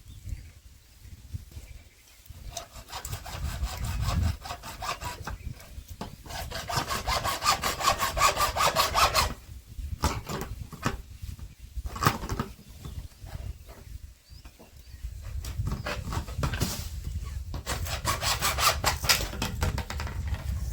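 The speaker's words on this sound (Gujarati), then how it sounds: "તો મિત્રો આપણો એકનો પાઇપ કમ્પ્લીટ થઈ ગયો છે કપાઈ" Hand saw cutting through PVC pipe for a homemade animal-scaring gun, steady back-and-forth rasping strokes in repeated bursts with brief pauses, close and fairly loud.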